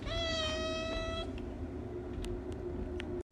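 A cat in a car meows once, a clear drawn-out call, then the steady hum of the moving vehicle continues alone.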